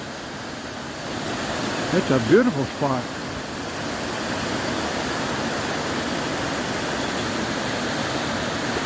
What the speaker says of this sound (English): And this is the waterfall here.